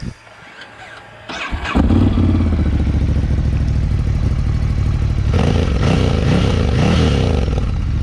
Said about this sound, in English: Let me start the engine so you can hear the